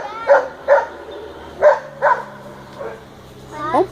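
A dog barks at a lake in a run of sharp, close barks with short gaps, ending in a rising yip, while people talk nearby.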